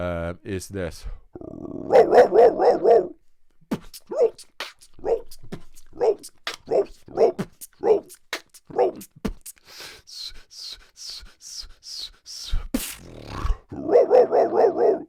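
A beatboxer imitates a dog with his voice, giving repeated sharp barks and yips in bursts at the start, through the middle and at the end, with short spoken words in between.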